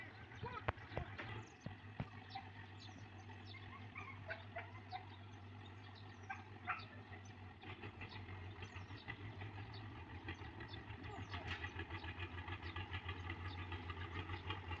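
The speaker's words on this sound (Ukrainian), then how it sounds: "Перший виїзд трактором в цьому році." A tractor engine idles steadily with a low constant drone on a rural vegetable plot in Ukraine during the first tractor outing of the year, while roosters and chickens cluck nearby and occasional voices are heard.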